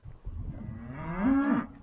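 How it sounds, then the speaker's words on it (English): A cow on a farm bellows once, a close, fairly loud low moo that swells and rises in pitch before trailing off, with no one talking. "I keep hearing this cow mooing."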